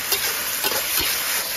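Pumpkin shoots are stir-fried in a wok with salt and soy sauce, giving a loud, continuous sizzle with quick scraping stirs throughout, close up and without talk.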